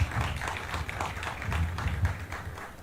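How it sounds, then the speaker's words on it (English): Applause for Trevor James and his team at a road commissioning ceremony, a steady wash of many hands clapping throughout, moderately loud and unbroken. "give Mr. Trevor James and his team a lusty round of applause again"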